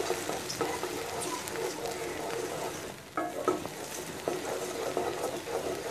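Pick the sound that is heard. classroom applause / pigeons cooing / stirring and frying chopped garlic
stirring and frying chopped garlic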